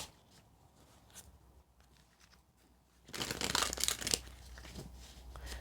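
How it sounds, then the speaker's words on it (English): A deck of tarot cards is shuffled by hand: quiet handling and rustling at first, then a loud, dense burst of riffling card snaps for about a second that settles into softer shuffling, close up with no talking. "One more shuffle."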